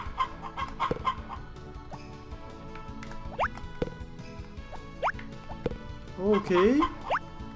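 Chickens clucking on a farm in the Harvest Moon: Back To Nature video game, several short game-style clucks scattered over background music, with a louder squawking burst near the end; someone talks over part of it.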